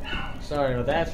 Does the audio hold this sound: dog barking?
yes